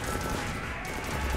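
Gunfire crackles in Mass Effect 3 Citadel DLC combat, a short dense burst of overlapping shots, loud and close, with no voices.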